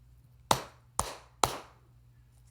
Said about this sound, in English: What did we hear? Clapping.